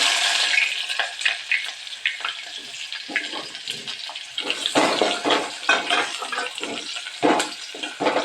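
Mustard seeds, cumin and onion crackle in hot oil on a gas stove, giving a loud, close, dense sizzle full of sharp pops and spits that carries on without let-up.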